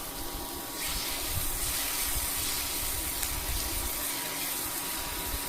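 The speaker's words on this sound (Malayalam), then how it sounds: "ഇതിലേക്ക് നമ്മൾ ഒരു ചെറുതായിട്ട് അരിഞ്ഞു വെച്ചൊരു തക്കാളി, ഒരു പച്ചമുളക് അരിഞ്ഞതും ആവശ്യത്തിന് ഉപ്പും ചേർത്ത് വീണ്ടും ഒന്നും കൂടി വഴറ്റുകയാണ്" Chopped tomato, green chili and salt sautéing in a hot pan, a steady broadband sizzle and hiss that swells after the first second and holds evenly throughout, with no voices.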